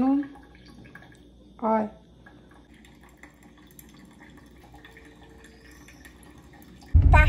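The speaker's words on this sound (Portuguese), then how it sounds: "Olha o cafezinho saindo" A thin trickle of coffee pours steadily, soft and close, after a brief spoken word; another voice cuts in at the end.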